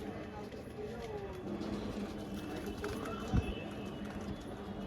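Fancy pigeons coo faintly and intermittently under a continuous background murmur, with one brief low thump partway through.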